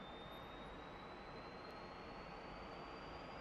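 MiG-15bis jet engine in the DCS flight simulator spooling up toward takeoff RPM with brakes held, a steady loud roar with a slowly rising whine throughout, no voices.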